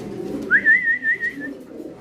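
Spanish pouter pigeons, with a single clear whistled call lasting about a second that rises, then holds level. It rings loud and close over a low, murmuring background.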